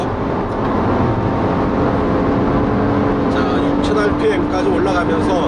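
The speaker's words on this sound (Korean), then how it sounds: "자, 엔진 소리가 제법 살아나죠." Infiniti QX60 premium SUV driving at high speed on the road, a steady loud engine drone with road and wind roar inside the cabin, rising slightly toward the end, with someone talking over it.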